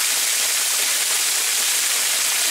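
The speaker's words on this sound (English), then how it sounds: "It's practically under a waterfall" Waterfall beside a dipper's nest on a nature walk, a loud, close, unbroken rush of falling water filling the whole clip.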